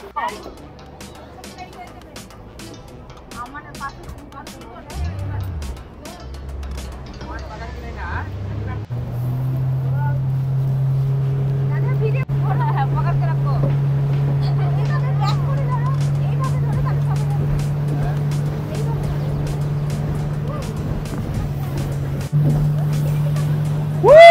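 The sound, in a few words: speedboat ride at Juhu beach, Mumbai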